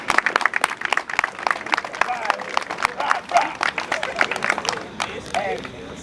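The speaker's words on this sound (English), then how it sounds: "I want everybody to give a round of applause to Brother Rob Cool." A gathered crowd at a Stone Mountain event on 9/11 claps and cheers in a dense burst of applause, close and loud, with voices talking and calling out through it.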